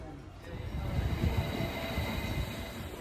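Train at Chelmsford railway station, a steady low rumble of rolling rail cars with faint high squeal, continuous and fairly close, no talk.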